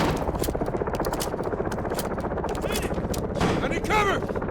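Rapid, continuous gunshots from Call of Duty: Modern Warfare (2019) during a house-clearing mission, dense repeated cracks close by, with brief chatter and whooshing effects mixed in.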